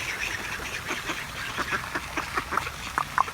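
A group of ducks and other birds quack and call repeatedly beside a small fountain in winter, close and fairly loud over a constant rush of splashing water.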